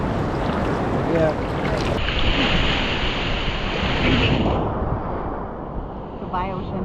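Ocean surf breaking on a beach, a steady broad wash of waves with wind buffeting the microphone, while people talk nearby.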